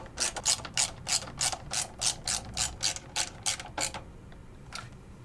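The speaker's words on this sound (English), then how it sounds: "Secure it with the provided screws." A ratcheting screwdriver driving the provided screws to fasten a PC power supply, fan face up, into the bottom of a gaming computer case: a quick run of about a dozen close, crisp clicking strokes, then a few slower ones.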